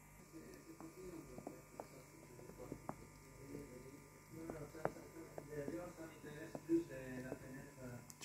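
Inflatable compression leg splints inflating and deflating from foot up to thigh, driven by a faint steady electric pump hum, with a person talking quietly over it.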